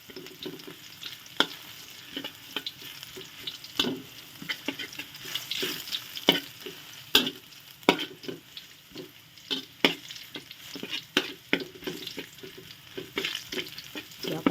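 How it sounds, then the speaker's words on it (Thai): Garlic and small rice noodles stir-fried in a pan give a steady sizzle broken by frequent sharp clicks and scrapes of a spatula against the pan, close and fairly loud, with no talking. "เกี่ยวมา ผัดไป ผัดมานะจ๊ะ กระเทียมก็เริ่มหอมแล้วเนาะ"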